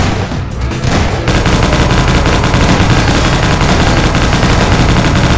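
Dense, loud automatic gunfire from the video game Garry's Mod starts after a brief lead-in and continues as a rapid, unbroken stream of shots to the end.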